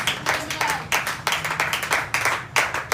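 A church congregation applauds with uneven clapping that rises and falls in waves, fairly close, over a few seconds with no talking.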